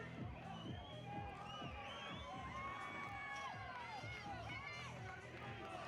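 Spectators shout and cheer at a CrossFit competition during the men's 40-44 Nancy workout, a steady roar of whoops and raised voices filling the whole stretch with excited chatter mixed in.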